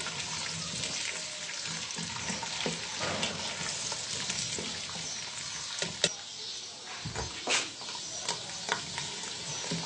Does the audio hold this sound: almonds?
yes